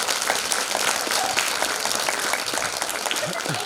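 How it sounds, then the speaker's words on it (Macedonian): A crowd applauding steadily and fairly loudly throughout, dense clapping with no pauses. "еден голем аплауз за нашите актери"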